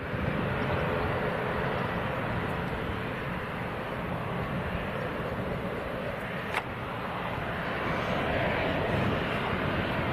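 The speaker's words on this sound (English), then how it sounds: "That's the little based Cessna coming back in." A small Cessna based at Leeds Bradford Airport comes in to land, its engine a steady, fairly loud broadband drone that holds level throughout without a clear rise or fade.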